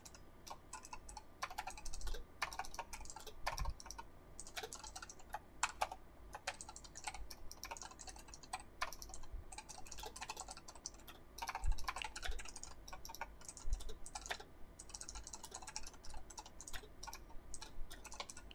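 Continuous typing on a computer keyboard, a quick irregular patter of key clicks near the microphone, alone with no voices.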